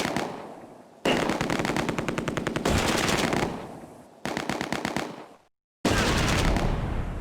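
Machine gun fire in the World War II game Close Combat: A Bridge Too Far, several loud rapid bursts of automatic fire separated by short pauses and one brief silence.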